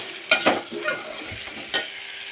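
Okra and cluster beans fry in oil with a soft steady sizzle, broken by a few sharp stirring scrapes and clatters of a spoon against the pan, close, no voices.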